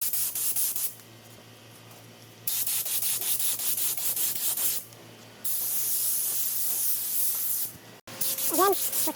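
Spray gun laying the first clear coat on a car body panel during a soft-edge blend: bursts of steady hissing spray separated by short pauses, close and fairly loud.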